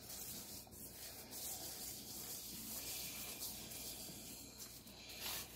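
Hands rubbing dry seasoning into a rack of barbecue pork ribs, a continuous close, soft, gritty rubbing and hissing with steady rhythm throughout.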